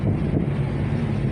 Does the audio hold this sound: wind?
yes